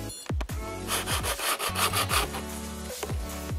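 Rhythmic rasping strokes of hand sanding a fiberglass door panel for a 1996 Chevy Impala before primer, a rough scratchy back-and-forth repeated steadily, close up with no talking.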